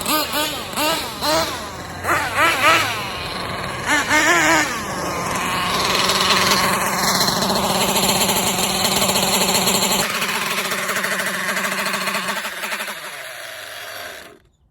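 An MTA4 MGT8.0 motorized bike engine revs up and down in sharp bursts, then holds a steady high buzzing drone before fading away, with voices briefly heard under the first revs.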